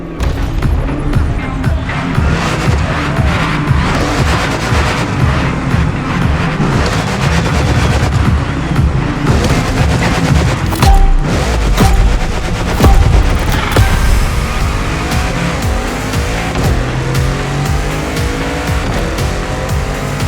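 A Genty Accolone luxury car in The Crew Motorfest, engine roaring loud and steady over twenty seconds of driving, with tire squeals and sharp popping bursts mixed in and a faint voice at times.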